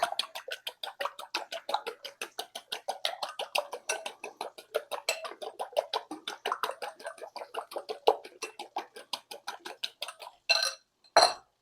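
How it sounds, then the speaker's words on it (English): A fork whisks eggs in a bowl in quick, steady ticking strokes, a rapid rhythmic clatter that runs for several seconds before two louder knocks at the end. "Whisk those up with a fork."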